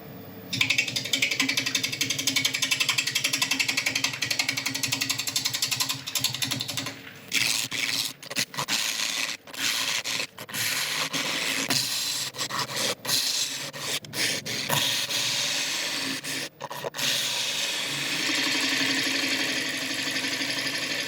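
A wood lathe spins a beech bowl at about 680 RPM as a tool flattens the surface, a steady loud whirring scrape with repeated brief cuts and dropouts as the tool touches and lifts.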